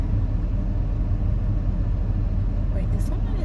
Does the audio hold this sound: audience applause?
no